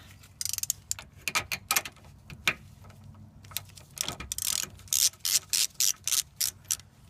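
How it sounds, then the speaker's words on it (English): Ratchet wrench working an idler arm nut on an older full-size GM Chevy or GMC pickup, giving bursts of quick clicking strokes close up, growing into a steady series of sharp ratcheting pulls near the end, with no talking. "Get my wrench in here."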